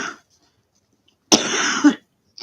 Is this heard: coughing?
yes